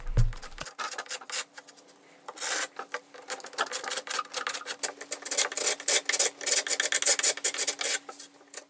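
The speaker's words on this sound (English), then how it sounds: "Fortunately, this filler doesn't have any blue paint on it, so scraping it out carefully is an option." Rasping, scratchy strokes of old filler being scraped out of very old wooden drawers, a quick run of close scrapes after a brief thump, continuing in uneven bursts with a faint steady hum behind.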